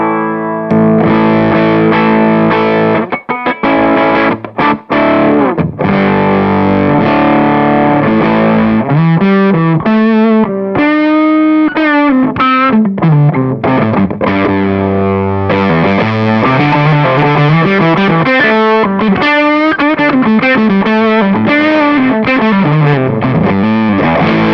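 A Les Paul electric guitar plays through a Charlie Paolo Custom Effects fuzz or overdrive pedal, loud saturated chords and sliding, bending lead lines running continuously for over twenty seconds.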